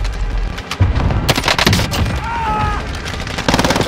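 A frag grenade explodes amid Call of Duty Modern Warfare gunfire in Verdansk plunder, with a sharp booming blast and scattered bursts of shots around it, loud and close, while other battle noise carries on.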